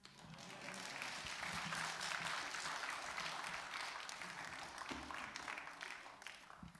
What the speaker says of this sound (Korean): 하나님의 큰 축복을 받을 두 어린이에게 다시 한번 큰 박수 주시기 바랍니다